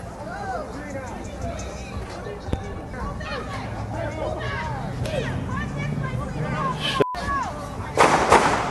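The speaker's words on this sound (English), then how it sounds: "These seem to be gunshots." Sharp gunshots crack repeatedly amid a busy crowd, with voices shouting and talking nearby and a few loud bangs near the end.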